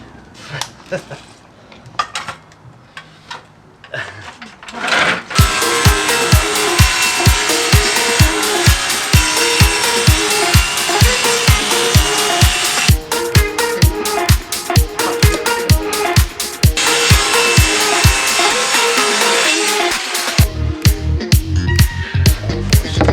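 A power saw cuts wood for a VW T5 van drawer build, loud and close, its whine broken by rapid, regular rasping strokes that run for most of the stretch after a quieter opening.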